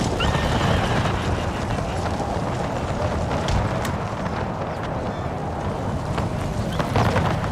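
Cavalry horses in the Empire: Total War strategy game neigh and whinny over a steady clatter of galloping hooves, all set within a loud, continuous battle din.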